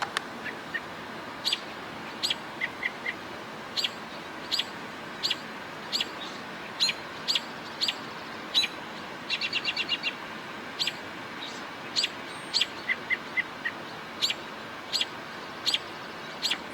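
A juvenile robin gives short, high chirps repeated at irregular intervals, with one quick rapid series near the middle, faint over a steady outdoor background hiss.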